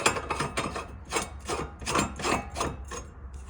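An exhaust part is threaded back onto the pipe of a Massimo 200 scooter, making rhythmic close grinding rasps in short repeated strokes, about eight in a row, with no talking.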